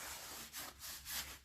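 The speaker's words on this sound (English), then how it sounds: "So get everything as clean as you can get with these wipes" Shop wipes rubbing over the rear swing arm of a Honda 400EX ATV, a soft steady scrubbing swish with a few stronger strokes, close and alone.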